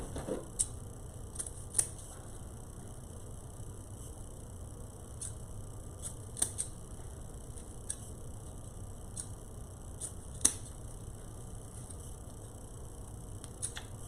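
Scissors snip ribbon tails on a Halloween deco mesh wreath, giving a series of sharp, sparse clicks spread over a quiet, faintly humming room, with no talk.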